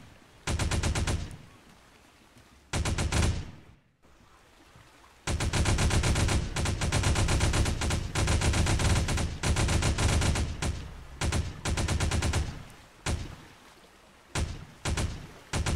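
Two small turrets in Ark fire from near the shore in long, loud rapid-fire bursts, rattling continuously for several seconds between short pauses, ending in a few scattered shots.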